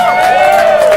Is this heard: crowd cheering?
yes